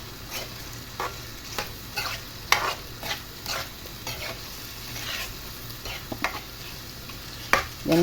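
Prawns frying in a pan for a curry with vegetables, stirred with a utensil: repeated scraping strokes and clinks over a steady low sizzle, close and fairly quiet, with no talking.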